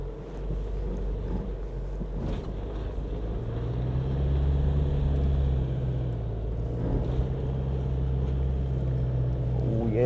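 A 4WD SUV engine holds a constant throttle as it climbs an off-road track in low range, a steady close drone that swells slightly midway, with some wind noise and a little talk.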